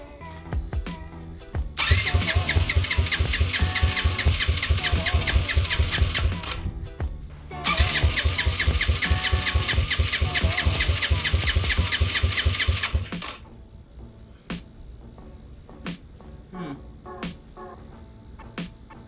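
A 2001 Yamaha YZ 90cc two-stroke dirt bike with a carburetor that is dumping fuel revs hard in two long, loud buzzing bursts, then drops to a sputtering, uneven idle with sharp pops, recorded close by.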